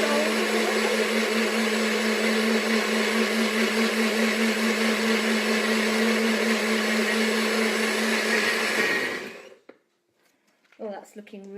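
A blender whizzes a banana smoothie in a steady, loud, continuous whir for about nine seconds before cutting off abruptly, followed by a short stretch of quiet.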